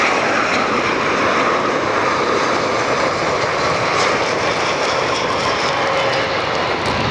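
A JetBlue jet airliner lands at Fort Lauderdale airport (FLL) with a bounce. A steady, loud engine roar holds throughout, with no voices.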